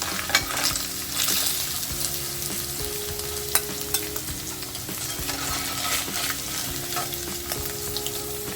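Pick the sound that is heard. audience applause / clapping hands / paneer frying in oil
paneer frying in oil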